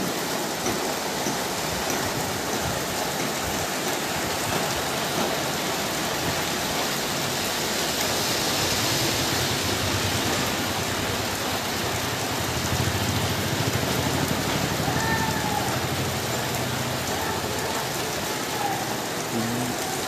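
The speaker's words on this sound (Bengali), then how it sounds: "আকাশ থেকে নামছে রিমঝিম বৃষ্টি" Steady light rain in Chaugachha, Jessore, Bangladesh, patters continuously on surfaces, a soft even hiss with no voices, holding at the same level throughout.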